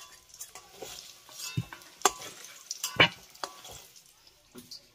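Fried potatoes are stirred and lifted out of hot oil in a pan, sharp metal spoon clinks and scrapes over a soft sizzle, close up with no talking.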